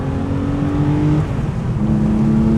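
A 1996 Porsche 993 Carrera 4S flat-six with a welded-in crossover exhaust pipe revs loudly and up close, its tone dipping briefly before climbing again in a smooth, moderately loud rasp.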